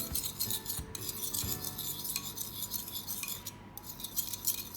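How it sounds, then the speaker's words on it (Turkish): A metal spoon scrapes and clinks against a dish while mashing a tomato paste sauce with pepper, salt and water, a close, continuous rhythmic scraping with small taps and no talk. "güzelce salçalı sosumu yapıyorum, eziyorum"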